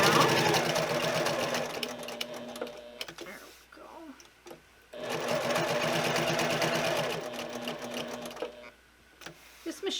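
A sewing machine stitching a zipper cosmetic bag runs in steady rapid bursts, pausing and restarting as the needle creeps toward a corner, with someone talking over the whirring.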